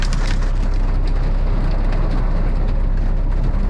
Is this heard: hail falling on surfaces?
yes